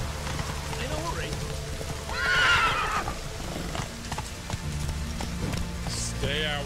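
Roach the horse in The Witcher 3 neighs loudly and gallops, with quick clip-clopping hooves, a sharp whinny near the middle, and a voice speaking over the action.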